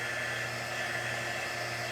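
Hair dryer blowing steadily on a craft transfer, a loud continuous whirring roar with no pauses and no voices.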